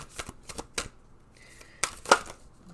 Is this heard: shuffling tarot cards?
yes